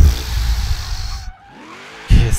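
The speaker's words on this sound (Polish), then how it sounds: "samochód, gdy już jesteśmy w tym takim ślizgu, mamy zaciągnięty hamulec ręczny" A Nissan NSX-R in Forza Horizon 3 drifts with the handbrake pulled, loud engine roar and tire squeal that cuts off abruptly into near silence before the engine bursts back in.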